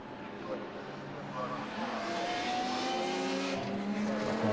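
Onboard race car with a Honda engine during a Lotus Cup Europe race at Snetterton, a steady engine drone rising through the gears with a faint tire squeal while a commentator speaks over it.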